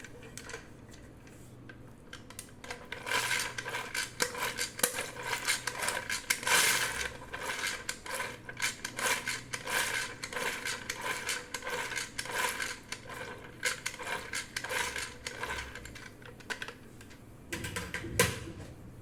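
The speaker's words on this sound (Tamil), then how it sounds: "இப்போ இதை நல்லா கட்டி இல்லாமல் கலந்து எடுத்துக்கலாம்." Bombay halwa batter is mixed in a cup until smooth, with rapid rattling and clinking of a spoon against the cup in quick repeated strokes, close but fairly faint, without speech.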